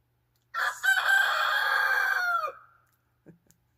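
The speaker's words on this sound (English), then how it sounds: "long gone as the rooster crows" A rooster crows once, loud and close, a long drawn-out call of about two seconds fading at the end, followed by a brief soft cluck.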